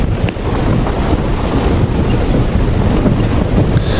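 A forceful mountain stream rushes at Nehru Kund near Manali, producing a loud, unbroken broadband roar close by, mixed with wind buffeting the microphone and no voices.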